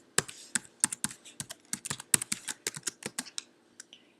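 Fingers tap quickly on a computer keyboard, a close, crisp run of about two dozen distinct clicks in an uneven rhythm, heard alone in a quiet room.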